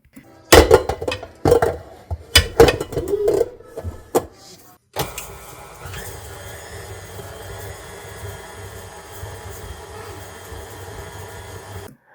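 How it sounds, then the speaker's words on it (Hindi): A stand mixer creams butter with white and brown sugar for a dawat meal: a few seconds of scattered clattering knocks, then a steady, fairly loud motor whir with a low hum that runs to the end. "मैं खुद भी पहली दफ़ा स्टैंड मिक्सर में बना रही हूँ।"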